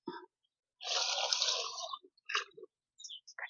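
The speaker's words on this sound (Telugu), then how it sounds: "ఈ దీంతో వన్ అండ్ హాఫ్ వాటర్ అయితే పోసుకుంటా ఈ పాత్రతో" A short pour of water into a cooking pot for biryani, outdoors in a farm garden, splashes for about a second, followed by a few brief drips and clinks in otherwise quiet surroundings.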